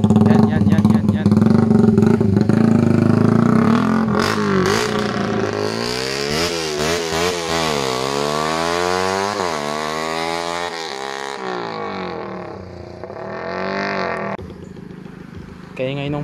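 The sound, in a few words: Suzuki Raider Fi motorcycle engine revving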